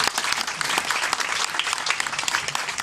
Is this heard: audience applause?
yes